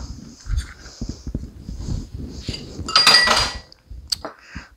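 A spoon scrapes cotton candy cookie dough out of a bowl, making a series of close, irregular scrapes and clinks against the bowl, including one louder burst of scraping.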